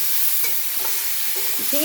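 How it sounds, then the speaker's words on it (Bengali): Vegetables salted and frying in a pan hiss loudly and steadily up close, with a few scraping stirs of a utensil cutting through the sizzle. "তো বেশি ভাজাও যাবে না আর এই রকম নাড়াচাড়া করতে করতে"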